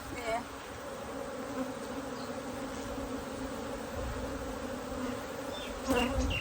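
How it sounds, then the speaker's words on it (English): Honeybees swarm across the frames of an open, healthy beehive, making a steady, dense, close buzzing drone that holds evenly throughout with no one speaking. "I mean, this is a healthy hive."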